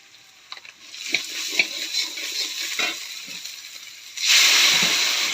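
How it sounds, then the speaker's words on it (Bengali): Water poured into spiced masala for egg curry, starting with a close sizzling hiss and bursts of bubbling, then a sudden louder rush of hissing steam as the water hits the hot pan. "পানি দিয়ে দিলাম।"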